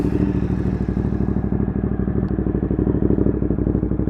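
A Ducati Monster 1200 fitted with an Austin Racing exhaust idles right after starting, a loud, close, rapid-firing rumble with an even, lumpy pulse and no talk over it.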